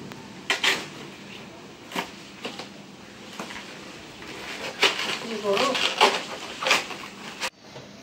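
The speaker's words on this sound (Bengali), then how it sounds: "আগের দিক থেকে কেটে কেটে ছোট করে নিই।" Taro (kochu) stems being cut into small pieces with a knife in a home kitchen, a series of scattered close taps and clicks against a board, denser toward the end, with faint low talk in the background.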